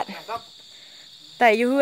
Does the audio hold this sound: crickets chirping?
yes